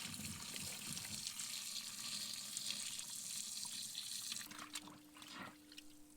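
Hot water pouring into a TecTake portable mini washing machine, a steady soft splashing rush that fills and settles, quiet and close, ending with a brief hum and a knock.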